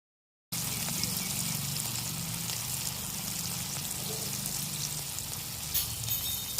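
Banana kola urundai balls deep-frying in hot oil give a steady, close, full sizzle that hisses evenly throughout after a brief silent start.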